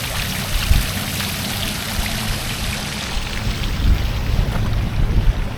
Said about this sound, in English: And you have this fountain right over here.